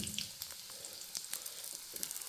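Taro pieces frying in hot oil with cumin and whole spices, a steady crackling sizzle with scattered sharper pops throughout, close and moderately loud with no voices.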